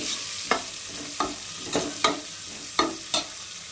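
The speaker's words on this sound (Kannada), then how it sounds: "ಸ್ವಲ್ಪ ಚೆನ್ನಾಗಿ ಫ್ರೈ ಆಗಲಿ ಇದು." Mutton pulao masala with green chillies frying in a pan, a soft sizzle broken by about six sharp spatula scrapes at uneven intervals, close and clear with no voices.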